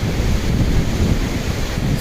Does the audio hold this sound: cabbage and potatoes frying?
no